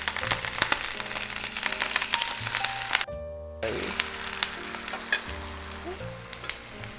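Loud, continuous sizzle of an oyster omelette mixture frying in a hot pan, a brief stir or scrape in the middle, with no voices.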